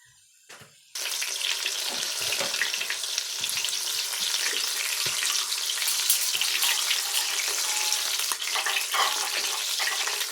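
Breaded frog pieces go into hot oil after a soft clatter, then a dense, loud, continuous frying hiss carries on steadily, close by and with no one talking.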